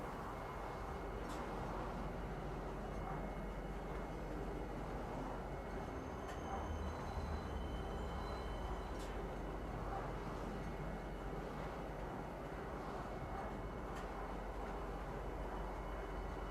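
A video game train pulls into a spaceport with a steady, loud rolling rumble and hum that runs throughout, marked by a few faint clicks and tones along the way.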